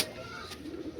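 A pure Baba Dhanyawala pigeon from an old Bilar line gives a brief, close, low coo, with no voices.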